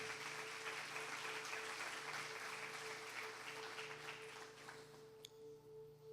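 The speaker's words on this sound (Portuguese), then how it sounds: "aplauda a palavra de Deus" A church congregation applauds during a sermon, a faint, steady wash of distant clapping hands over a low hum, thinning toward the end.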